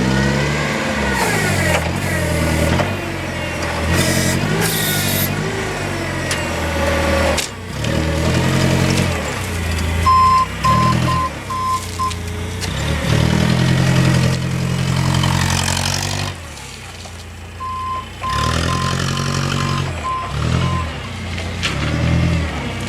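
A Komatsu 3,500 lb three-stage side-shift forklift engine runs loudly nearby, its revs rising and falling in repeated sweeps over a continuous mechanical drone.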